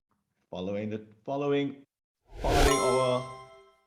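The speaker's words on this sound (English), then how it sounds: "I'm going to ring our bell." A voice speaks briefly, then a single bright bell is struck, ringing out and slowly fading.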